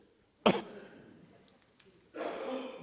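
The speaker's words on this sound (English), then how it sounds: "I'm going to have a coughing fit here" A single sharp cough bursts out, followed after a pause by a longer rough, breathy throat-clearing sound, close by.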